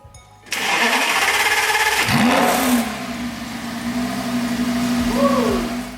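A 2008 Lamborghini Gallardo Superleggera V10 cranks and fires up with a sudden loud bark, flares in a brief rev, then settles into a steady, close idle drone with a few light blips.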